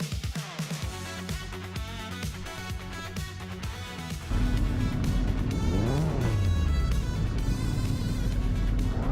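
Racing video game at Atlanta Motor Speedway with a classic 1988 Porsche 944 Turbo S on pole: loud race car engines rev and roar in a dense pack, with a car sweeping past in a rising and falling pitch.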